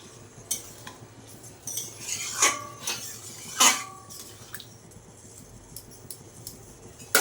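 A spoon stirs milk into a curry of mung dal and pointed gourd in a pan, with irregular close metallic scrapes and clinks, a few sharper knocks against the rim, and quieter gaps between strokes.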